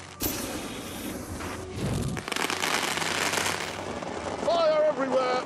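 Fireworks going off in The Grand Tour Game video game: dense crackling and booming bursts fill the scene continuously, with voices talking over the explosions near the end.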